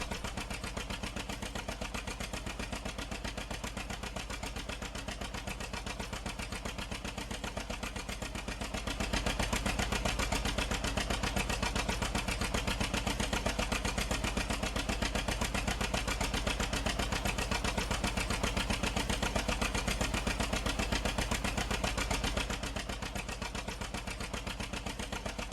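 A John Deere 730 diesel tractor engine runs with a custom sound in a video game. It holds a steady, throbbing idle that swells louder for a long middle stretch before settling back.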